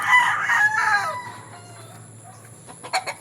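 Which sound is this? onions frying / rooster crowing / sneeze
rooster crowing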